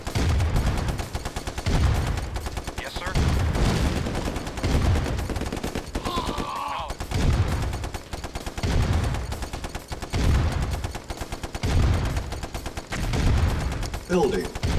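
Rapid bursts of gunfire and explosions ring out during a base attack in the real-time strategy game Command & Conquer: Red Alert Remastered, steady and dense throughout, with a voice speaking over the combat at times.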